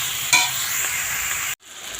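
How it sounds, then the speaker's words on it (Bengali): Eggplant and potato pieces are stirred in a pan of hot oil, giving a steady broadband sizzle with a scrape of the spoon near the start and a short dip where the sound briefly cuts out. "দিয়ে একটু নাড়িয়ে নেব।"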